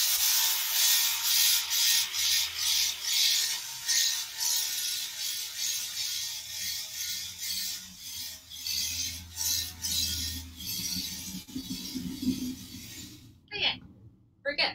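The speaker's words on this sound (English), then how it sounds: "I want to sweater shave the edges of this patch" Sweater shaver buzzing in repeated short passes over the pilled edges of a polyester patch, a close whirring rasp pulsing in even strokes and then stopping near the end.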